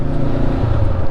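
Honda CB500F motorcycle pulling away from traffic lights in first gear, a loud, steady engine drone rising in pitch with wind rush over the microphone for a short burst.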